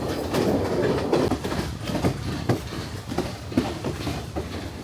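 A train rolls along rails in Sri Lanka, a steady close rumble with repeated rhythmic clatter of wheels over rail joints throughout, no voices.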